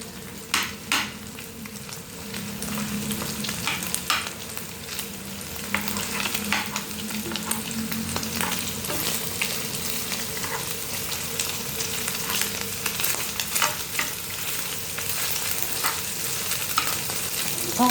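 Brain frying in a pan, a long steady sizzle and crackle with occasional scrapes of a utensil stirring against the pan.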